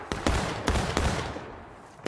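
Cannon and musket fire in the Civil War video game War of Rights: several sharp shots crack in quick succession over about a second, each with a rumbling echo, then a decaying reverberant tail.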